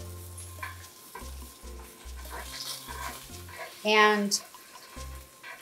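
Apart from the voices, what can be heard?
salmon frying in a pan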